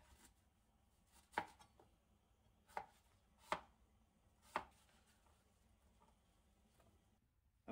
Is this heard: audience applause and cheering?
no